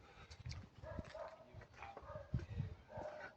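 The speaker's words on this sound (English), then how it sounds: "Dogs barking and they sort of break the silence." Dogs barking faintly in the distance in a park, a few scattered woofs over quiet outdoor background noise.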